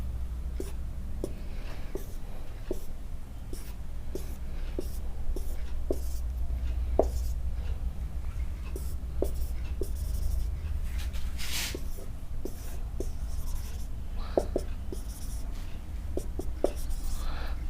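Pen scratching on paper while a diagram of the female reproductive system is sketched by hand for a biology lesson: steady, evenly spaced strokes close by, with no talking.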